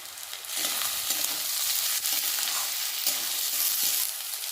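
Capsicum pieces sizzle in hot oil for a rohu fish curry, a bright continuous frying hiss broken by a few stirring scrapes, close and alone.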